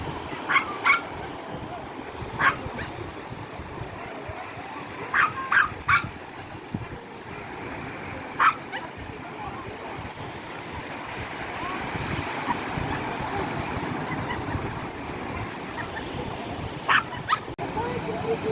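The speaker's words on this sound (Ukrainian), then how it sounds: "Хозяйка пішла купатися в море, а собачка хвилюється." A small dog on a sandy Black Sea beach in Odesa barks in short, sharp bursts and whimpers anxiously between them, close by, over the constant roar of surf washing in and out.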